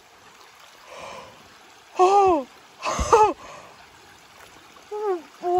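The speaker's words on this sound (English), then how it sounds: "the bridge is washed out over Lick Creek, which means we are fording the creek." A person wades across a cold creek where the bridge is washed out, with soft water trickling and splashing under loud, sharp gasps and exclamations from the wader.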